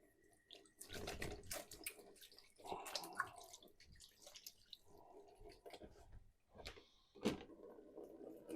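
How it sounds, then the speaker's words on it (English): A knife is rinsed under a running kitchen tap, a quiet splashing of water with a few clatters and drips, no talk over it. "So just going to rinse that knife off that I used again."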